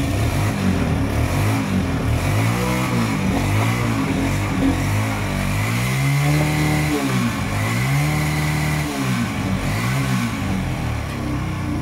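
An LML Freedom motorcycle engine runs steadily close by, its note rising and falling in pitch with a few revving swells and a throbbing mid-range drone throughout, with no talking.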